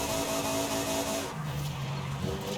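A car drifting in Forza Horizon 5 gives a loud, steady engine roar under a continuous tire squeal. The pitch shifts partway through the slide, and no one is speaking.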